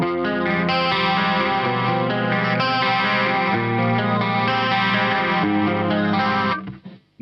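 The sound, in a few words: electric guitar, EMG 81 pickup played alone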